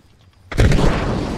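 A frag grenade goes off in ARMA Reforger gameplay, one loud close blast that follows a quiet moment and rumbles on briefly.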